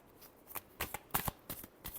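Tarot cards being shuffled by hand in a series of quick, close, crisp riffling bursts at an uneven rhythm, with no voice.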